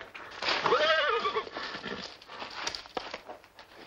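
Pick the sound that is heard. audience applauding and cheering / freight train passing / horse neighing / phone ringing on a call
horse neighing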